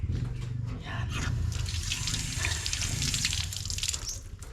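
Water trickling from a faucet while a yard is being cleaned, a steady continuous splashing and running flow, fairly close, with no talking.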